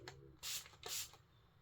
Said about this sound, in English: Spray it 3 times.